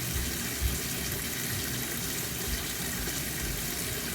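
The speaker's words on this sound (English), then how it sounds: "So I'm gonna fill up the bucket." Water pours steadily into a bucket for brewing beer at home. It makes an even, broadband rushing hiss that goes on without a break, with nobody talking.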